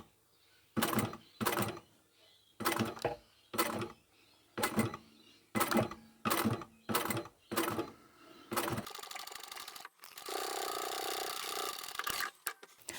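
A sewing machine stitches slowly through thick layers of upholstery fabric samples for a patchwork boxy bag, running in a string of short, steady whirring bursts with brief pauses between, then one longer continuous run close by.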